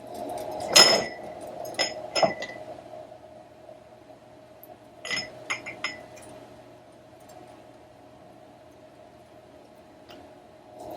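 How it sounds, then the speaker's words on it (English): Glass jars clink and knock together as they are loaded with apple pie jam. The bright clinks come in a few scattered clusters over a low steady hum, with quiet gaps between them. "So I'm going to start loading my jars now."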